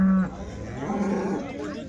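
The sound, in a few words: cows at a cattle market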